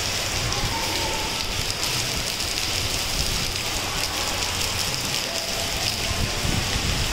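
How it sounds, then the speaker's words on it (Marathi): Heavy monsoon rain falling steadily near Karjat outside Mumbai, a loud, unbroken hiss and patter of drops on surfaces throughout, with no talking. "पाऊस चालला आहे जास्त"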